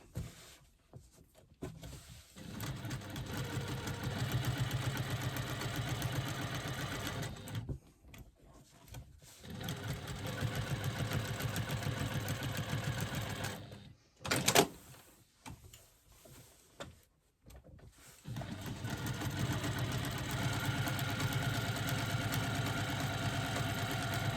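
A sewing machine stitches quarter-inch lines across a fabric pouch, running in steady whirring bursts of several seconds each with short pauses between them, close and fairly loud.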